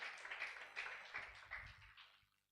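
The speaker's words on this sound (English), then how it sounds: "A round of applause for him." A small audience at an official academy launch gives a brief round of applause, a few uneven bursts of clapping that fade quickly into quiet.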